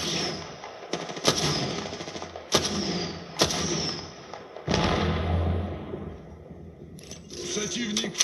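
Video game gunfire played through a Rebeltec party speaker: loud bursts of rapid automatic shots with sharp single cracks between them, a low boom near the middle, dense and close.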